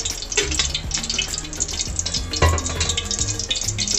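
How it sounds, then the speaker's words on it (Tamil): Oil poured into a pan for a street-style mushroom gravy, a steady bubbling hiss and splash close up, with faint clinks of a spoon against the pan. "காளானுடைய சேர்வாக்கு எண்ணெய் ஒரு 2 ஸ்பூன் ஊற்றிக்கலாம்."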